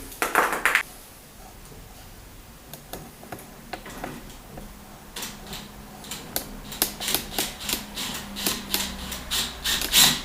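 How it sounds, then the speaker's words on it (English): Screws being driven into a desk top on an Allcam GDF03M gas spring height adjustable desk frame, heard as rapid ticking ratchet bursts and short scraping turns, close up, repeating in quick clusters. "Now we can just go ahead and put the remaining screws in."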